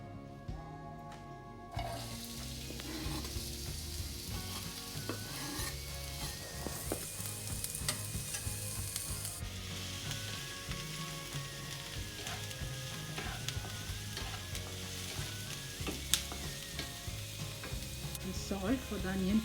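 Onions frying in oil in a pan while making aloo paratha, a steady loud sizzle with stirring that runs unbroken throughout, no talking.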